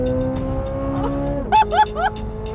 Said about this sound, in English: Oh, it revs so high!